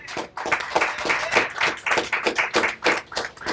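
A small audience at a building commissioning applauds a contractor, with scattered, uneven claps in distinct bursts and pulses rather than a dense wash, fairly close.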